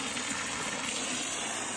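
Garden plants are watered in the evening, with a steady rushing spray of water from a hose that holds a constant, fairly loud hiss throughout.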